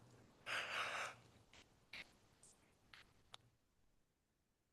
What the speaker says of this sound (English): or just a big yawn